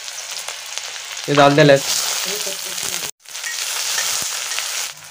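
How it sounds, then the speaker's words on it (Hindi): Taro (pinalu) curry with onions frying in a pan, a steady bright sizzle with a brief stir and clatter partway through, under someone talking in Hindi. "अब बनाने लग गए हैं पापा पिनालू की सब्जी।"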